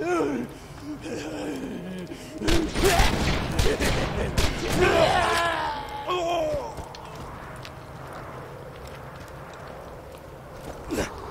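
Rapid bursts of gunfire in the video game Borderlands 2, dense and loud mid-clip, mixed with game effects and a person talking over the action.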